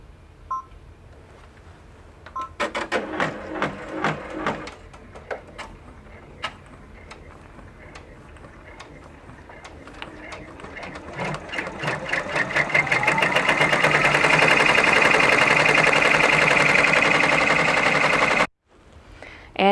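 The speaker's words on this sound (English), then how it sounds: "And now for my favorite part, the finishing stitch." An embroidery machine sews a satin finishing stitch around a multi-fabric appliqué, starting with sparse ticking needle strokes and building into a steady, loud, fast mechanical whir that stops abruptly near the end.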